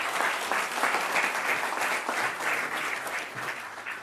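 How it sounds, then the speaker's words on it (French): Steady audience applause at an evening tech event, a dense wash of many hands clapping continuously at an even level, with no voices standing out. "je pense qu'on peut vous applaudir chaleureusement tous les 4"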